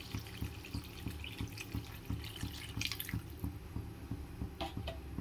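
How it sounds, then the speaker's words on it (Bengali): Water poured into a cooking pot for a thin egg curry, a steady running splash with a regular dripping rhythm, fairly quiet and close, no voices. "জল দিয়ে দিলাম"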